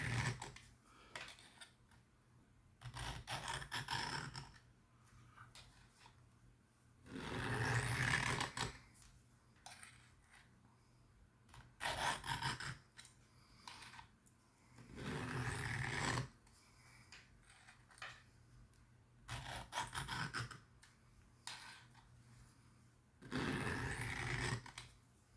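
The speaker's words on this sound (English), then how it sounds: "You hear that gritty sound? It is still taking metal." A knife blade scraped against the stone of a Worksharp Field Sharpener, giving repeated gritty, rasping strokes in bursts of a second or two, separated by short pauses, fairly close and alone.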